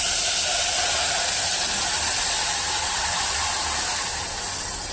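Milk poured into vermicelli roasting light brown in a hot pan gives a loud, steady sizzling hiss that fills the whole clip without a break.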